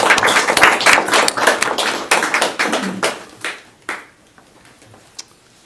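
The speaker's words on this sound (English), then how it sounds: "So thank you, Ethan, for allowing us to applaud for you." Applause breaks out at a school committee meeting in a room, clapping from many hands that is dense at first, then thins into scattered claps and fades out over about four seconds.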